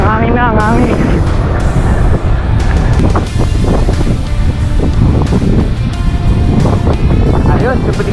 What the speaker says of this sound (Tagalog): Sarap, ang hangin na, ang hangin.